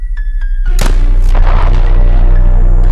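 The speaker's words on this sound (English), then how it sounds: "the explosion was extremely powerful" A powerful explosion in a film, a deep booming blast after a few short rumbling pulses, then a long, heavy, rolling rumble that stays loud to the end.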